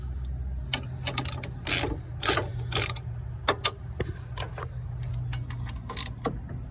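A hand ratchet fitted with a 15mm socket clicks in quick bursts while loosening the bolts on a car's front brake caliper bracket, the pawl ticking up close over a low steady hum.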